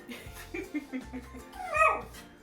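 A dog whines and yips in short, rising bursts while waiting to be fed two leftover eggs in a kitchen, the whimpering swelling loudest near the end with low household noise beneath.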